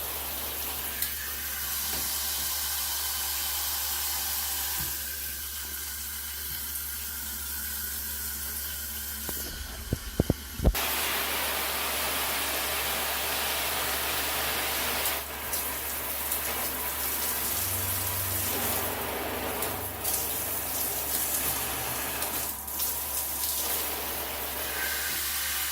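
A ShowerMaxx 4.5 inch shower head sprays water on its low pressure setting, a close continuous hiss that shifts slightly in texture, broken by a couple of sharp knocks near the middle.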